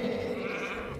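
A goat bleating in the Minecraft game, a sustained, wavering cry heard up close that fills the whole moment with no talking over it.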